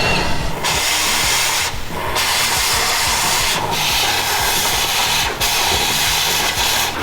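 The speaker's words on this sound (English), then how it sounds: "Now we got the one size fits all wrench coming in. And then he's got the torch." On a fire-damaged Jeep, a torch heats a stuck bolt, producing a loud continuous roaring hiss that runs the whole time, with a few brief dips and rattling undertones.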